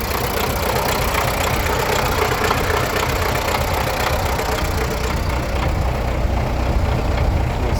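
A D-240 diesel engine idles with a steady, loud, even rumble and fine knocking texture, continuous and close throughout.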